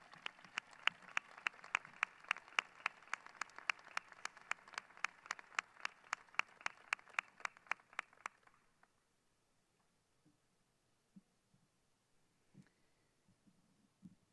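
Audience at a university commencement ceremony clapping in a brisk, evenly spaced rhythm for about eight seconds, then stopping abruptly, leaving near silence broken by a few faint knocks.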